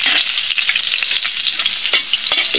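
Loud, close sizzling of garlic frying in oil in a pan, a continuous hiss broken by several scraping and tapping strokes as it is stirred, with no voices.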